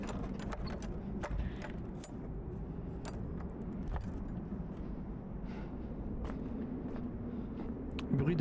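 Footsteps from an interactive film play as a series of sharp taps at an uneven walking pace, set against a steady low rumble of background noise, with a brief louder burst near the end.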